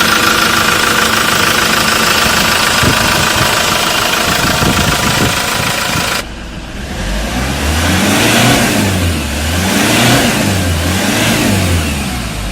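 A used car's engine revs hard and loud with no one talking, first with a dense, sustained roar, then in several rising and falling swells that sound close by.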